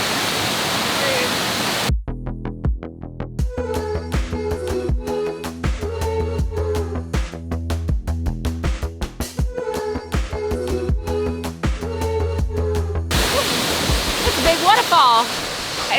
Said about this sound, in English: you're getting the mist off of the glacial fed waterfall